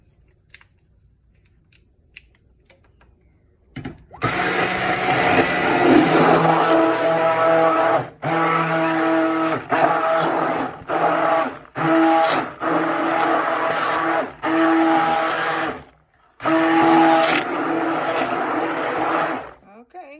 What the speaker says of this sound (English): I might put the stick blender at the end.